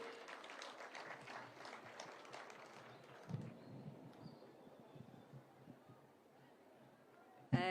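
Applause from an audience at a Nairobi County school feeding programme launch event: a faint, distant patter of clapping that thins out after a few seconds, with a low murmur and a sharp knock at the end.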